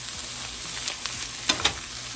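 Bean sprouts sizzle and fry in a hot pan for Venezuelan fried rice, with a steady hiss and a few sharp pops and spatula scrapes cutting through.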